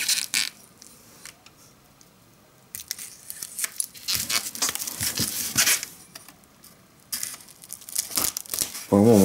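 Crinkling and tearing of parcel packaging holding coins in several bursts with pauses between, close up, and a voice speaks briefly near the end.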